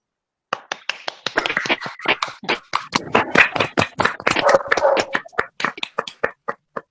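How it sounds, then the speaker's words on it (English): Webinar participants clap over unmuted microphones, a ragged stream of distinct close hand claps that starts abruptly, builds into overlapping clapping, then thins to a few last isolated claps. "I would like if everyone unmute themselves and clap for all the participants"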